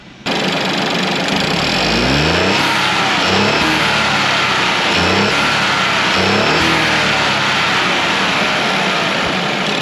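A Ford Focus 1.0L EcoBoost engine, with windshield washer fluid in its coolant system, revs loudly several times, each rev rising in pitch and falling back to a rough, shaking idle.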